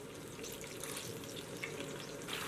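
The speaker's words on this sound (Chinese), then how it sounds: "接着往锅内倒入1小碗的清水" A small bowl of water poured into a hot wok over chili oil, a brief steady hissing splash and sizzle, faint and continuous with no talk.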